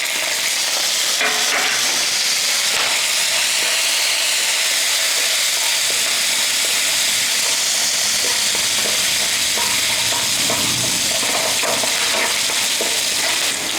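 Chana dal, cumin seeds and finely chopped green chilies sizzle steadily in a hot oiled pan, a loud continuous frying crackle with occasional stirring scrapes and no voices.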